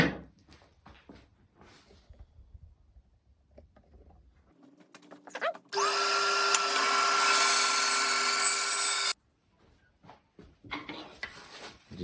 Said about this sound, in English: I'm going to run those through on the bandsaw now